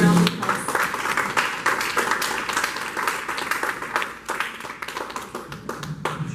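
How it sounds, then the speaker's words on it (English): Audience at a political candidates' event applauding a candidate for state representative, with sustained, dense clapping from a crowd indoors and some voices mixed in. "So, give a round of applause."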